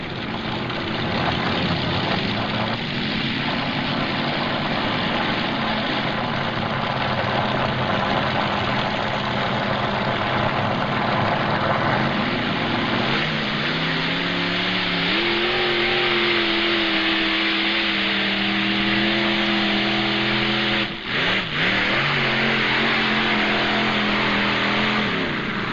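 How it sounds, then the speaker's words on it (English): A 500 cubic inch modified pulling tractor engine roars continuously at a tractor pull in Fort Recovery, loud and steady with rising revs partway through and a brief throttle dip near the end. "500 cubic inch flow that's powering this modified tractor out of Taylorsville, Kentucky"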